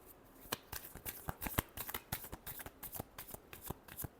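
Tarot cards are shuffled up close in a quiet room, a quick series of crisp riffling snaps and flutters in an uneven rhythm.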